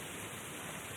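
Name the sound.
rain falling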